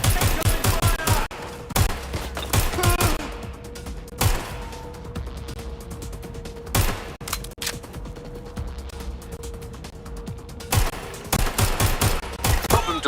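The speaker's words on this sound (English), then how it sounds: "Incoming fire!" Gunfire in the Watch Dogs Legion video game, bursts of shots at the start and end with scattered louder cracks in between, over a steady background hum, with no talk.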